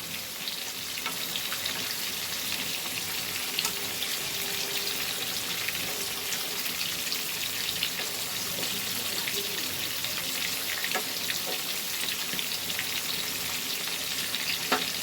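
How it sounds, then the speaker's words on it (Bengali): Fish fries in a pan with a steady, fairly quiet sizzle and scattered small pops and spits, with no talk over it. "এই মাছটা ভাজার সাথে সাথে"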